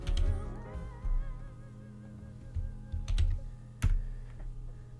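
Short bursts of clacking keystrokes on a computer keyboard, close by, separated by pauses, with a steady background hum.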